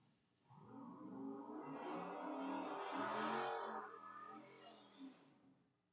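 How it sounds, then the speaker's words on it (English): A purple 1972 Dodge Demon tears down a quarter-mile drag strip at about 96 mph, its engine roar swelling loud and steady for several seconds, then fading as the car passes. "1972 purple Dodge Demon, we got Lee Brown tearing down the track at 96 miles per hour"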